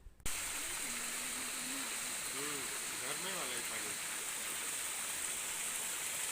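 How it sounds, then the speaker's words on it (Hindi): A mountain waterfall in Sikkim rushes nearby as a steady, loud broadband roar that fills the whole clip, with faint voices briefly heard in the background partway through. "थोड़ी दूर आगे पे झरने की इतनी तेज़ आवाज़ है।"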